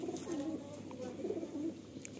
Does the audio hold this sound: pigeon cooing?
yes